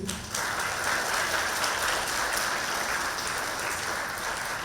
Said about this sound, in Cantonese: 俾啲掌聲自己先